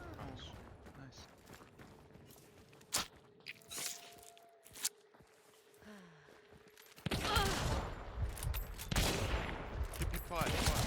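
Hip-fire gunshots sound in a close-range fight in the video game Hunt: Showdown. Several sharp, scattered shots ring out first, then a dense, loud burst of firing and commotion follows.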